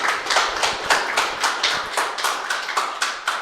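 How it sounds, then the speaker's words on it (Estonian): A school audience applauding a group of boys after their research presentation, with steady brisk clapping from a modest crowd in a room and no voices. "Jah, teeme nüüd kõva aplausi poistele, sest nad on väga kõva asja ära teinud."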